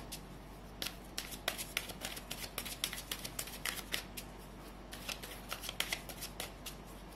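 Tarot cards shuffled by hand in quick, repeated riffling bursts, close and fairly loud, with a soft steady hum underneath.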